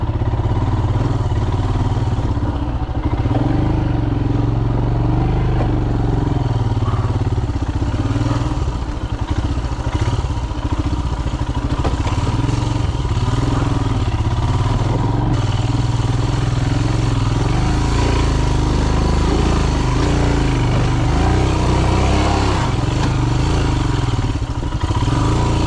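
A Royal Enfield Himalayan motorcycle on a Montana singletrack trail, its engine a loud, continuous throb close to the microphone, with wind rush and the clatter and thumps of the bike over rough ground throughout.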